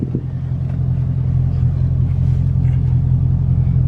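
A 2019 Dodge Charger Scat Pack idles with a loud, steady low rumble, its engine held near and constant for a few seconds while preparing for a launch.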